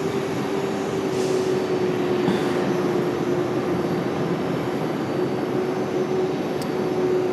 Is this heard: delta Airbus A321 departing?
yes